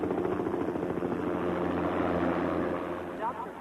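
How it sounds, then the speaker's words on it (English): A medevac helicopter arrives, its rotor beat a steady rhythmic thrum under the scene, moderately loud and continuous, with voices talking over it. "Medevac's here with Steve"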